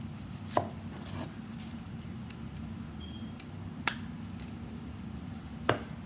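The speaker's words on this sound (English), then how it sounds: "Right now I'm going to cut one end. Now the other end." A knife chops the ends off an onion for a potato omelet, giving a few sharp, separate knife-on-board knocks spaced over several seconds, up close against a steady low background hum.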